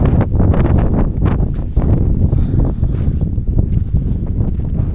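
Strong wind buffets the microphone on a steep mountain track near Everest, a loud, continuous roar with gusty surges throughout and no voices.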